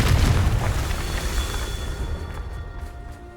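A Confringo fire spell bursts in Hogwarts Legacy, a loud booming explosion at the start that rumbles and slowly decays over a few seconds, with faint ringing tones lingering underneath.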